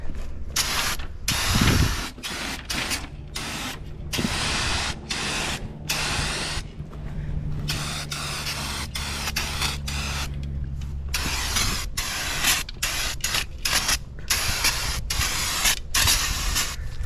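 Rust-Oleum Turbo spray paint hissing from a can onto a custom car trailer, long continuous sprays broken by short pauses and can rattles, close and loud, with no voices.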